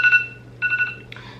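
A phone alarm chiming in short electronic tone bursts, three repeating patterns of bright beeps at moderate volume over quiet room background.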